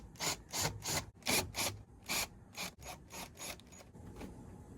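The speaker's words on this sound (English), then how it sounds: "So I got my drill, got my little nut driver there." A cordless drill with a small nut driver backs screws out of an HVAC unit's front cover, making a series of short, close, raspy whirring bursts with brief pauses between them.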